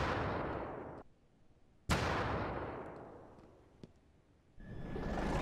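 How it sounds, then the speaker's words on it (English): Heavy gunfire in the Ravenfield video game pounds a tank with two booming shots, each fading out over about a second, followed by a third blast at the end, loud and alone without voices. "So let's shoot it again."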